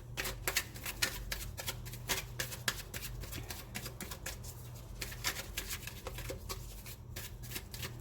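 Wild Kuan Yin oracle cards being shuffled and drawn, a steady run of soft riffling taps and card flicks, close and fairly quiet, with no talking.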